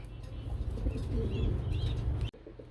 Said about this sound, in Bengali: আরেক জোড়া কবুতর খুব সুন্দর একদম পিওর ব্ল্যাক কালারের মধ্যে